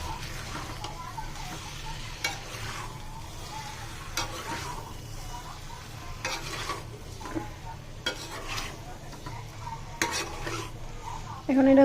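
New potatoes, scraped and peeled, sauté in a pan for a winter aloo dum, giving a steady close sizzle with repeated scraping and stirring strokes throughout, ending in a louder clatter.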